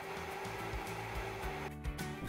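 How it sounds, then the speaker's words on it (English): Shop vacuum running steadily while cleaning the exhaust area and blower fins of a Quadra-Fire Trekker series stove, a continuous loud whirring drone with a brief dip near the end. "Use a shop vacuum to clean inside the exhaust area and the fins of the blower."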